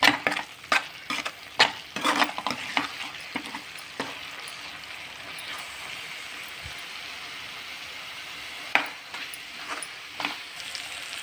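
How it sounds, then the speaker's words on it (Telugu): Spices frying in oil for a paneer curry give a steady sizzle, broken by sharp scraping stirs of a utensil against the pan that come in bursts at the start and again near the end. "ఇవన్నీ వేసిన తర్వాత ఆయిల్లో బాగా ఉడకనివ్వాలి."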